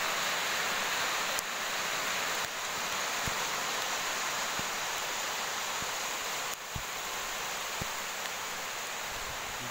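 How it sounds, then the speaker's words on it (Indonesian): Steady rain falls during an evening fishing outing, a dense continuous hiss with a few faint knocks and ticks, growing heavier, with no voices. "Hujan mulai turun."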